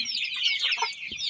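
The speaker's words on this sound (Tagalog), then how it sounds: "ito yung mga itik natin guys" Ducks (itik) in a backyard mini farm, a steady close chorus of clucking, chattering calls from the flock, overlapping with no pauses and no talking.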